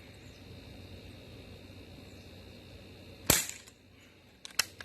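A single sharp, loud crack from an Umarex Ruger 10/22 air rifle firing a BB outdoors, heard after a quiet stretch of ambient hiss and followed by a couple of fainter clicks.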